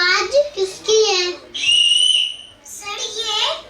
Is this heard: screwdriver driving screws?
no